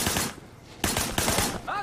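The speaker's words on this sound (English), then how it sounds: "shooting at the guys over there." Gunfire in the video game Sleeping Dogs: a few loud bursts of shots in quick succession, separated by brief pauses, with some speech-like sound mixed in.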